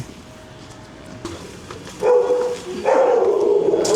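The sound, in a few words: golden retriever barking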